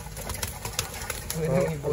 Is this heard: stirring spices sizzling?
no